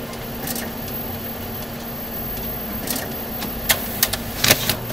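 A jammed printer rumbles steadily after its start button is pressed, with sharp clicks and ticks in the last seconds; close, low and continuous, with no talking.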